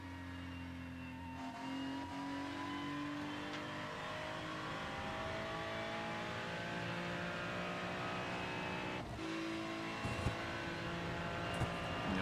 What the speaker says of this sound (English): Let's listen to his throttle input for the last kind of remainder of the lap here, or next few turns